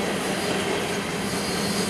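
A freight train rolls past close by, a steady, loud broadband rumble and rail roar that holds unchanged for the whole stretch with no voices over it.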